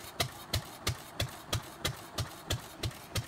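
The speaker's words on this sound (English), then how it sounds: "The operator carefully monitors the process until the engine runs smoothly and steadily." A vintage Fairbanks Morse 32D diesel engine runs steadily, its even, loud exhaust beats thumping about three times per second with a sharp crack on each stroke and no voices.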